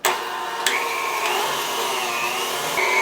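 A stand mixer fitted with a meat grinder runs on high while grinding meat for sausage, a steady, loud motor whine that strains against the load, with a couple of sharp clatters near the start.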